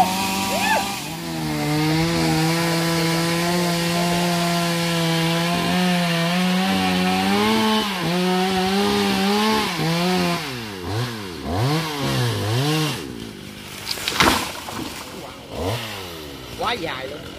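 A chainsaw saws through the base of a tree trunk, its engine holding a loud steady whine before bogging and revving in repeated swells as the cut deepens, with a voice speaking over it.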